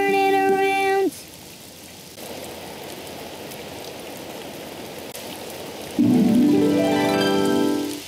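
Steady hiss of rain in a Daniel Tiger children's video game, running under the middle of the clip, with musical tones at the start and end.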